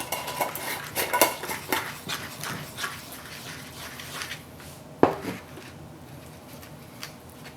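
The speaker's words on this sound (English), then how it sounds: "now I want you to take this fork and really mix it up as best you can." A fork mixes toothpaste and jelly on a plate, making irregular scraping and clinking against the plate, with a bright, sharp clink partway through before the sounds thin out.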